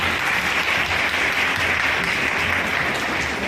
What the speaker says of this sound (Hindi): इन लोगों ने एक जोरदार ताली बजाई।